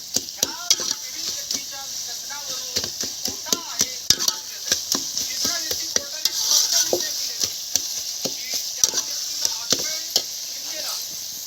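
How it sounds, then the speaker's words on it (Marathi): Spice masala frying in a pan, a steady sizzle under repeated scraping and stirring strokes from a spoon against the metal, close and continuous with soft faint voices in the background. "झाला आता मसाला चांगला फ्राय झालेला आहे बघा"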